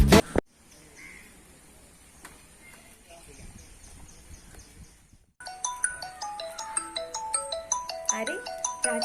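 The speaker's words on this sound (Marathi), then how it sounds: "अरे राजाला फोन येईल घरी." A phone's ringtone plays as an incoming call arrives in a short Konkani comedy sketch, repeating in a rapid, melodic electronic pattern that starts after a brief quiet stretch and keeps going loud and steady to the end.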